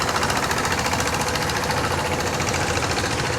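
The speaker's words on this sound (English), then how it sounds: "There's a tourist boat going past." A tourist boat motoring past in Nyaung Shwe, its engine giving a loud, steady, rattling drone that fills the scene without pause.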